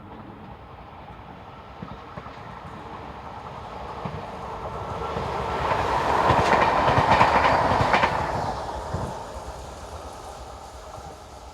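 Class AM70TH electric multiple unit on a Braine-le-Comte local service passing steadily, its rumble and wheel clatter swelling to a loud peak near the middle and then fading, with no voices.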